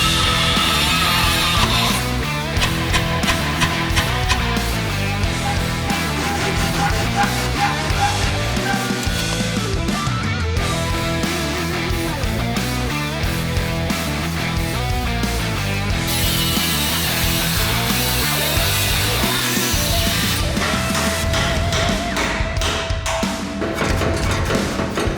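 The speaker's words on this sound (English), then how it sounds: "we're gonna have to get the old die grinder out and cut this off" Milwaukee die grinder cutting through rusty exhaust fasteners on a Ram 2500, a loud, continuous harsh grinding whine with shifting pitch and clattering metal contact running the whole time, no talking.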